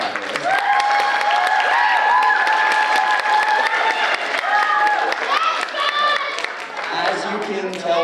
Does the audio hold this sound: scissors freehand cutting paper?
no